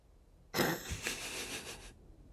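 A character coughs in the survival video game 7 Days to Die: one harsh, raspy burst of coughing about a second and a half long, loud and close against near silence, with no speech.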